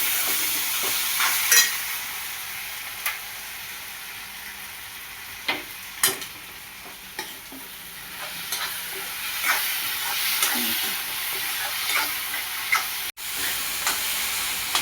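Dried Bombay duck chutney fries in oil with a steady soft sizzle while a spoon stirs and scrapes the pan in irregular clinks, close and fairly quiet, with no speech.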